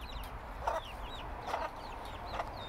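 Mixed-breed backyard chickens cluck softly in the background, three short bursts of calls over a low steady hum, with faint bird chirps above.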